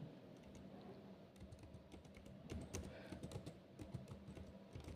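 Fingers typing on a computer keyboard while entering data in Tally accounting software, a quick irregular run of soft clicky keystrokes, close but quiet, with no talking.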